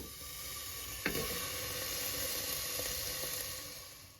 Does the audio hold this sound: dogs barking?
no